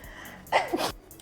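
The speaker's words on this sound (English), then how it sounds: "I have to sneeze" A single sharp sneeze, close and sudden, lasting under half a second against a quiet room.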